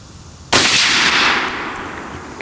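A single sharp rifle shot from a Rock River Arms 6.5 Creedmoor rifle, loud and close, cracking abruptly and then trailing off in a long echoing decay at an outdoor range.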